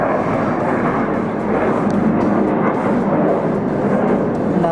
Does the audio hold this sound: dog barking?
no